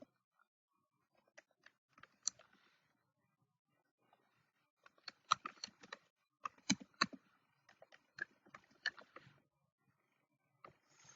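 A password is typed on a computer keyboard in scattered bursts of sharp, close key clicks with short silent gaps between them, quiet and alone.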